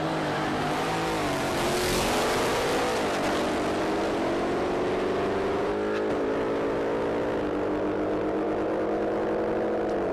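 A supercharged Mustang and a supercharged LS-powered Holden Clubsport drag race at Palmyra Dragway, their engines roaring loud and sustained with rising, shifting pitch and a supercharger whine throughout.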